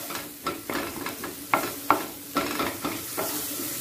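Tomato frying in a little mustard oil in a pan, a soft steady sizzle broken by a regular series of spoon scrapes and stirs, heard up close without speech.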